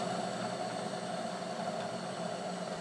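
Milling machine spindle turning at about 500 RPM while machining a brazed slot in a cast iron arbor press part, a steady close hum and whine that holds even and continuous with no talking.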